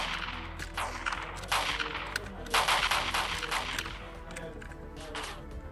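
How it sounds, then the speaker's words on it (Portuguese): Gunfire effects in GTA San Andreas Multiplayer on Android: several sharp bursts of shots, fairly quiet, with short gaps between volleys. "é muito melhor quando tem um efeito de tiro"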